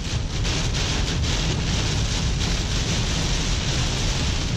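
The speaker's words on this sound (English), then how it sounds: "It's raining pretty good." Heavy rain pours during a storm in Texas, heard from a vehicle stopped in traffic as a dense, constant roar of rain and wind.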